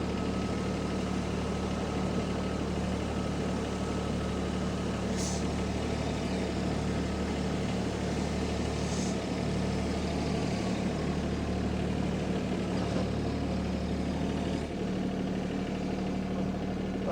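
A Mahindra tractor in two-wheel drive runs steadily while clearing snow with a homemade plastic-lumber cutting edge, its diesel engine droning at a constant low rumble for the whole stretch with no talk.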